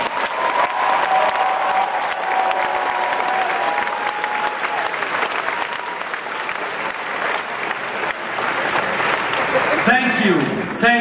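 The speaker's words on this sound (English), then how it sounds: "A round of applause for all of them." Sustained audience applause fills a large hall at the closing ceremony of a Pokémon world championship event, loud and continuous with cheering, while an announcer talks over it.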